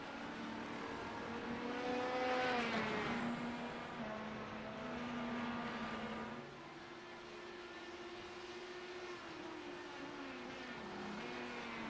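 IndyCar open-wheel race cars circling the Indianapolis Motor Speedway oval in a racing video game, steady high-pitched engine whine with rising and falling pitch as cars pass, continuous and fairly loud with no talk.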